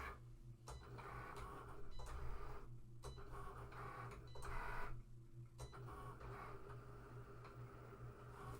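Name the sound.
cutting machine cutting vinyl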